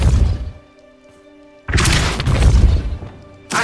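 A Depulso force spell is cast in Hogwarts Legacy, landing as a loud, sudden booming thud with a crashing burst that rings out and then trails off, followed by a second hit at the end.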